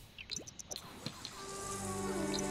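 A shower running in the Sims 4 game: brief dripping and splashing water at first, then a steadier liquid rush with a faint tonal hum building underneath, fairly quiet and with no talking.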